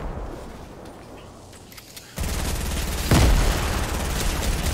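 A grenade explodes in the Fortnite video game, a sudden loud blast that leaves a dense rumbling roar, with a second heavier boom about a second later amid ongoing gunfire-like noise.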